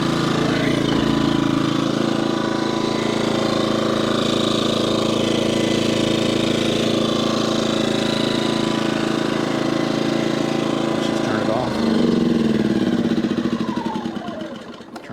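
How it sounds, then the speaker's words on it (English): A portable generator runs in economy mode, its engine droning steadily at a close, fairly loud idle, with a brief shift in tone near the end. "So economy's off, economy's on. So that's the quietest it's going to be."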